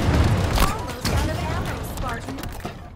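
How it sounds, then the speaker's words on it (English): Bazooka firing in Halo Infinite, several heavy booming shots and thuds in quick succession amid chaotic combat, with a voice talking over the blasts. "This is good bazooka. This is best bazooka."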